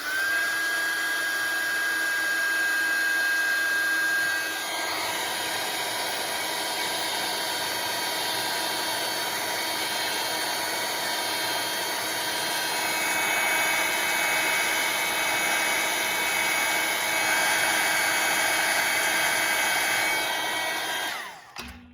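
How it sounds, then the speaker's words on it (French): A heat gun blasts a steady, loud whooshing whir for about twenty seconds while melting embossing glitter, dipping slightly in pitch partway through, then cutting off abruptly at the end. "Donc, je prends mon heat gun."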